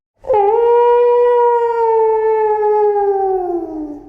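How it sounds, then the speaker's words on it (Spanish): A character lets out a fierce, wolf-like howl: one loud, sustained wavering cry of about four seconds that sags in pitch toward the end, with no other sound around it. "en cuanto ve aparecer a Juanito, pues que le gruñe como si fuera un lobo feroz."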